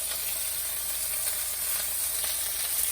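Spices sautéing in a little oil in a hot pan for chili con carne, a steady bright sizzle and hiss holding evenly throughout, close and unbroken, with faint soft crackles.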